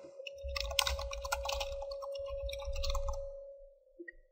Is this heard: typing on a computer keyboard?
yes